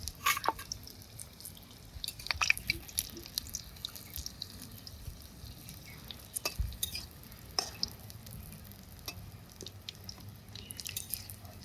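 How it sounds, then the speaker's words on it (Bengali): Eggplant slices fry in a little oil, a soft, uneven crackle and spatter with scattered pops and wet squishing sounds, fairly quiet throughout. "ওই যে বেগুন ভাজছি আর তেল কমে গেছে"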